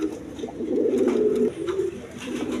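Satin pigeons coo nearby in low, throaty rolling notes, one sustained phrase followed by a shorter one, over faint background noise.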